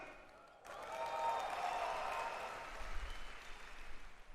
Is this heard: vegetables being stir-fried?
no